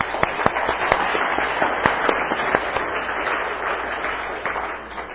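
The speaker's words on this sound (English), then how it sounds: "let's give them all an applause" An indoor audience claps together in sustained applause, a dense steady patter of many hands, loud and close, with a few sharper individual claps standing out.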